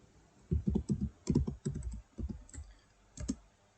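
Typing on a computer keyboard: quick clusters of close, crisp key clicks in short irregular bursts with brief pauses between them, and no talking.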